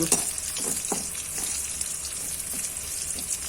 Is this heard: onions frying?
yes